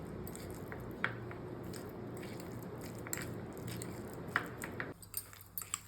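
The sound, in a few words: mixing mashed avocado with lemon juice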